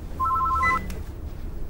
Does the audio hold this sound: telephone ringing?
yes